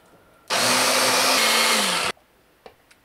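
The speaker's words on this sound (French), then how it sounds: "maintenant on va mixer et c'est fini" A blender whirs loudly and steadily for about a second and a half as it mixes pizza sauce with black truffle pâté, then cuts off abruptly, leaving a few small clicks afterward.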